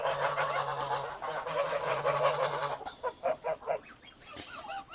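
Ducks quack in a noisy, overlapping flock, with harsh honking calls coming in quick bursts at moderate distance.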